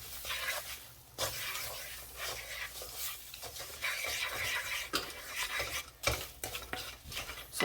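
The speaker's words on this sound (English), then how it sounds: "Garam masala 2 teaspoons, cumin 2 teaspoons, coriander 1, paprika 1, curry half, all together. I'm mixing this." A spoon stirs a dry mix of garam masala, cumin, coriander, paprika and curry powder in a pan, making repeated close scraping and rubbing strokes with small clinks and no talking.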